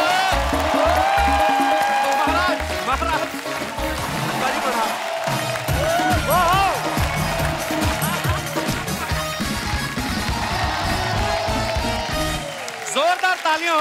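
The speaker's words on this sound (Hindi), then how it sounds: "जोरदार तालियां हो जाए अनुपम सर के लिए।" Studio audience on The Kapil Sharma Show applauding and cheering as Anupam Kher is welcomed, a loud, dense wash of clapping and whoops that runs throughout with a host's voice and music over it.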